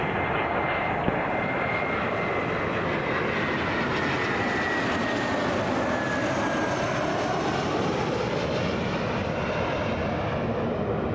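An Air Canada Boeing 737 airliner takes off from runway 23 at Toronto Pearson Airport, its jet engines producing a broad, steady roar with a slowly shifting whine, heard at a distance with no voices.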